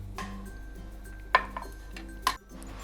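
Washed poppy seeds are moved from a sieve into a cooking pot in a home kitchen, with two faint metallic clinks of utensil against cookware over a quiet background hum.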